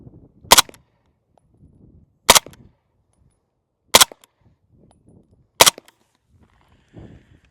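Four sharp suppressed shots from 147 grain subsonic rounds fired through a suppressor, evenly spaced about one and a half seconds apart, each a loud crack with short mechanical clatter and faint low rumble between.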